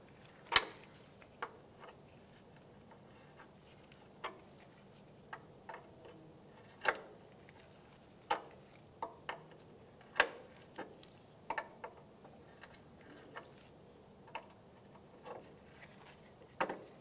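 A 10 millimeter wrench ratchets off a brake line nut on a 2003-2011 Honda Element during a front brake hose replacement. Sparse, quiet metallic clicks and ticks come at irregular intervals, close by, with no voices.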